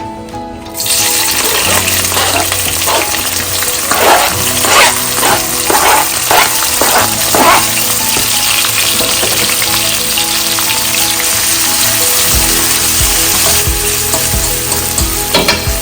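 Onion and mixed vegetables hit a hot pan and burst into a loud, steady, close sizzle that lasts throughout, with utensil clinks and stirring scrapes scattered over the hiss.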